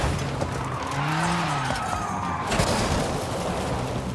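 A Volkswagen Golf R's tires skid and squeal in Forza Horizon 5 on a race track, a sustained screech over a steady engine roar, loud and close with no talk.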